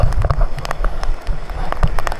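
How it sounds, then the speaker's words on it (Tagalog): Heavy rain and gusting wind from Typhoon Carina in Taiwan, a loud, close, choppy wash of noise with rumbling buffets over a short stretch. "papasok ako sa malakas ng ulan at ang hangin"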